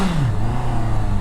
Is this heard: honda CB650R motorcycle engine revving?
yes